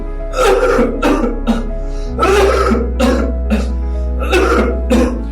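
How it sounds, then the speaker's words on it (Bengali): A patient in a doctor's examination in a Bengali drama coughs hard again and again, roughly eight loud, close, rasping coughs in uneven bursts over a low steady hum, with no talking between them. "কতদিন ধরে এরকম কাশি হয়"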